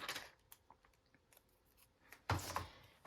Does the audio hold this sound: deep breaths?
no